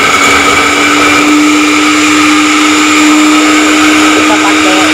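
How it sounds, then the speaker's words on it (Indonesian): A kitchen blender runs at full power for the whole stretch, whirring loudly and steadily as it purees herbal remedy ingredients with a little water, its motor whine constant and close. "Jadi kita mulai blender aja."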